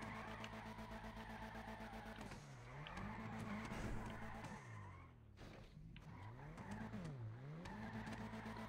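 A car drifts in GTA V on PC, its engine revving and rising and falling in pitch as the tires squeal through repeated slides, close and steady throughout with no talking.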